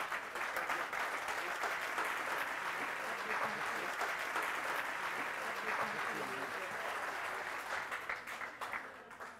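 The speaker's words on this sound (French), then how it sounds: "Sous vos applaudissements" Audience applause at an anniversary celebration, a sustained, fairly soft patter of many hands that fades slightly toward the end.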